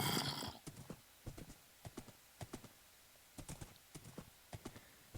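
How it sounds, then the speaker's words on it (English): Hooves clip-clop in an uneven rhythm, several horses walking, with a brief neigh at the start and scattered clops that sound synthetic, from Minecraft. "Yes, of course, the horses."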